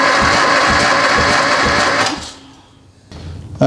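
An old Harley-Davidson Sportster motorcycle engine cranks over on the starter during a cylinder compression test, a loud, steady rhythmic chugging that cuts off after two seconds, leaving quieter background noise and a brief clunk at the end.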